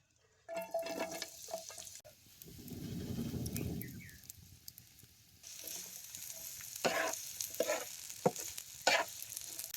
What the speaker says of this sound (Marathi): लांबड्या लांबडा चिरलेला कांदा आता ह्याच तेलात घालायचा